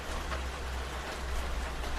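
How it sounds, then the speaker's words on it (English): Steady rain falls continuously as an even hiss of drops on surfaces, fairly soft and constant with no voices. "Everyone just chilling, listening to the rain"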